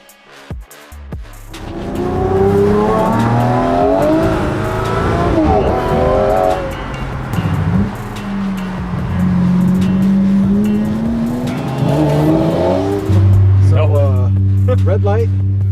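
A Murcielago sports car revs and accelerates, its engine note rising in loud sweeps that swell and drop several times, with people talking over the car throughout.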